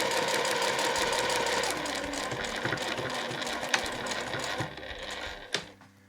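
A sewing machine stitches a seam on homemade room pants with a steady, close mechanical whirr that slows and stops near the end, followed by a couple of sharp clicks.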